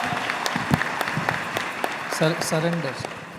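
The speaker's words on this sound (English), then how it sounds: "Yes, that is the correct answer. A big round of applause." An audience at a spiritual quiz event applauds a correct answer with scattered, fairly light claps. Voices talk over it and a higher voice rises near the end.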